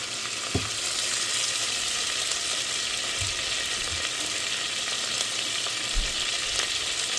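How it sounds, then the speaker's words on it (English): Butter sizzling steadily in a pan for a roux, cooked on a camp stove in a vintage skoolie bus, with a broad continuous hiss and a few soft low knocks, close and alone with no talk. "we're just going to do a little bit more butter so that we can make a roux here"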